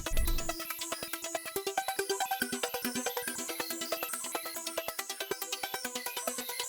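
Layered synth melody built in FL Studio with Fruity Delay 3, several bright synth parts stacking into a busy, evenly pulsing pattern of repeated plucked notes with delay echoes, steady and fairly quiet throughout, no voices.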